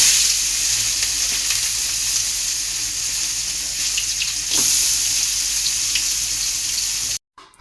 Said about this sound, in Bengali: গরম তেলের মধ্যে এটা ভালোভাবে ভেজে নেব